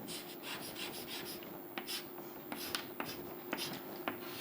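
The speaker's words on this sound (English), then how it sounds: "For this, let me write a diagram." Pen writing on paper while drawing a circuit diagram for a physics lesson, faint scratchy strokes with soft taps, quiet and close, with no talk.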